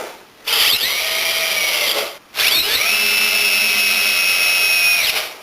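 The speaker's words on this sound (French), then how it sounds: "j'ai plus qu'à visser correctement les vis" A power drill drives screws into the wooden frame of a small greenhouse. It gives two high, whining runs with a short pause between them, and the second run is longer and steady and ends as the motor stops.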